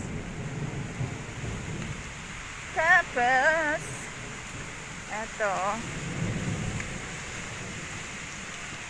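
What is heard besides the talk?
heavy rain with thunder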